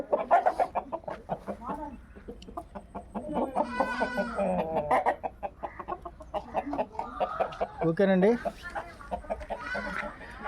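Fighting roosters kept for Sankranti cockfights, one red and one white, cluck and squawk close by in a busy, continuous stream while people talk over them.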